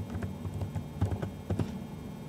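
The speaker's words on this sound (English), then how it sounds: "I'm going to type in a website" A website address is typed on a computer keyboard: quick, close key clicks in an uneven rhythm, with a few heavier taps standing out.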